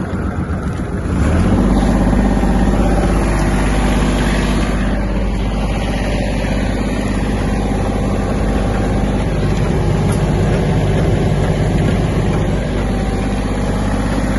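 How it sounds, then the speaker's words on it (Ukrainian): A Kubota GL-21 mini tractor's small diesel engine runs steadily at a constant idle, a low throbbing drone that continues unbroken throughout with no talking. "Трактор працює чисто."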